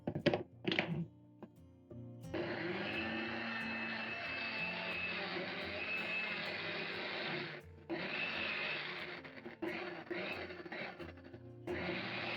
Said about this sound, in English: I'm going to cover and blend the pumpkin leaves into a puree